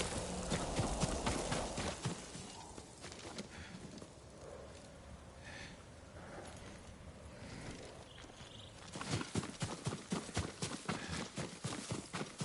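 Horse hooves clip-clop steadily nearby in Ghost of Tsushima, a quick rhythmic clatter that eases in the middle and returns strongly at the end, with faint ambient game sounds.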